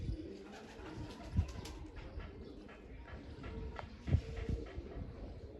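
Pigeons coo softly as they return home to their loft, with low, faint murmuring calls under light background noise and a couple of slightly louder coos standing out.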